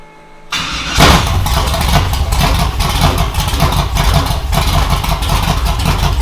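A new engine in a nitrous-fed Chevy Nova truck build cranks briefly, then catches on its first cold start and settles into a loud, rough, lumpy idle with uneven surges, close up.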